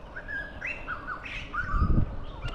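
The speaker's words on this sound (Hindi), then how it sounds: "white crusted laughing thrust" White-crested laughingthrush calls from a tree near a giant tusker elephant: a series of loud, clear, rising and falling whistled notes continue steadily, with a rougher low rustle or grunt swelling toward the end and no voices.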